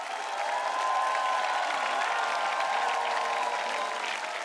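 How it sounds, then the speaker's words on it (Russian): A large audience applauds at a televised sing-along show, dense steady clapping filling the whole stretch at even loudness with a faint crowd murmur beneath and no talk over it. "Давайте поаплодируем."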